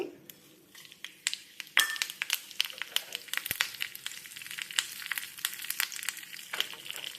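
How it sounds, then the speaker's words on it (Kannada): Mustard seeds, dried chillies and curry leaves frying in hot oil as a tempering for unripe jackfruit sambar. After a quiet start, a sudden burst of sputtering crackle turns into scattered sharp pops and sizzling, close by. "ಎಣ್ಣೆ ಇಟ್ಕೊಂಡ್ಬಿಟ್ಟು ಒಂದೆರಡು ಸಾಸಿವೆ ಹಾಕ್ಕೊಡ್ತೀನಿ ಹಾಗೆಯೇ ಒಣಮೆಣಸು ಎರಡು ಒಣಮೆಣಸು ಒಂದೆರಡು ಕರಿಬೇವು ಎಲೆಗಳು ಅದನ್ನು ಹಾಕ್ತೀನಿ"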